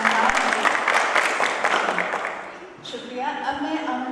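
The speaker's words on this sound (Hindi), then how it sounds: "तालियों की गूंज काफ़ी कम है।" A seminar audience gives a short, modest round of clapping that fades after a couple of seconds. A voice then speaks briefly in the room.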